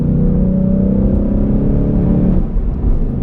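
Ford Mustang S550 with a clutch spring assist, its engine droning steadily in a rising rev under spirited driving, loud and close from inside the cabin, then easing off near the end.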